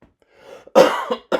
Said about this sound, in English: I've got a cough at the moment